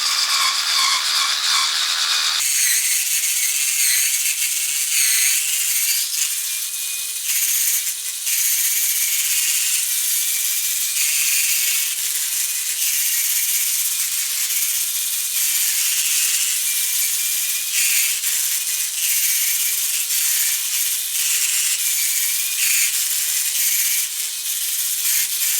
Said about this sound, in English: I'm sure with the right detergent you can do the job with this electric cleaner.